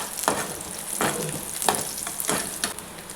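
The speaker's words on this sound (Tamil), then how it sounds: "இப்போ நீல வாக்கில் கட் பண்ணிக்கிற தேங்காவை சேர்த்துக்கலாம். அதுவும் அந்த எண்ணெயிலே நல்லா பொரியிட்டுங்க." Lengthwise-cut coconut pieces and green chilli fry in hot oil for a spicy flattened-rice snack, a loud, close, continuous sizzle with rhythmic stirring surges and no talk.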